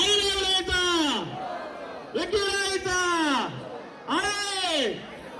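A crowd at the Bhiwandi palanquin procession bursts into loud, drawn-out collective shouts, three swelling cries that rise and fall in pitch, close and forceful over background hubbub.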